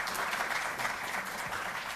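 A live audience claps loudly and steadily to welcome a para-athlete at a Delhi government honour ceremony for Olympic heroes, a dense unbroken wash of applause with no pauses.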